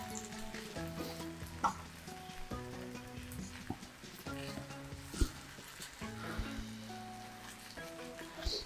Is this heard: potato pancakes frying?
yes